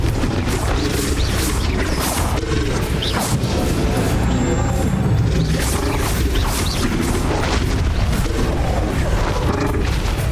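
Confringo and Bombarda spell blasts in Hogwarts Legacy during a boss fight, a dense run of repeated crashing booms and magical whooshes with sharp bursts every second or so over continuous loud combat noise.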